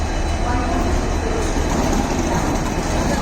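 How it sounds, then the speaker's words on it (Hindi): The Mandovi Express pulls into platform 1 at Madgaon station in the rain, a brief, constant heavy rumble of rolling coaches and engine close by. "मांडोवी एक्सप्रेस आ रही है प्लेटफॉर्म नंबर 1 पे ऑफ मडगांव स्टेशन"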